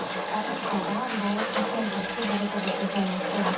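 Apple and currant juice streams from a home juice press, a continuous close trickling and gushing of liquid, steady throughout with faint voices in the background.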